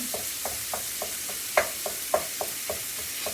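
Rubber spatula breaking up taco meat in a pot, a series of soft rhythmic scraping taps about every quarter second over a faint sizzle, a couple of slightly louder knocks in the middle.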